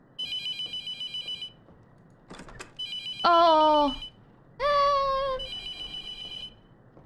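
A telephone in The Mortuary Assistant video game rings in repeated electronic trill bursts, interrupted by two louder gliding tones, with a brief startled exclamation from a person.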